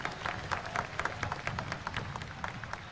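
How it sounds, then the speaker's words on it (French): Audience applause at a political speech event, a fairly faint, scattered patter of clapping from a crowd with irregular claps spread across the whole stretch. "Demos un caluroso aplauso."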